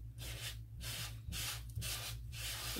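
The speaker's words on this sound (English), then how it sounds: "I'm just taking my Lysol wipe and just kind of scrubbing around to get it kind of off" A Lysol wipe scrubs back and forth across a surface in steady rhythmic strokes, about five passes, close and soft-hissing, with no talking.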